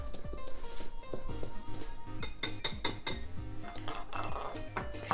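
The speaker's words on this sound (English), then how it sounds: "So just gonna put all this in a bowl and whisk it up." Italian seasoning is whisked in a bowl with quick, rhythmic clinking and scraping of utensil against dish, a close clatter with busier bursts in the middle.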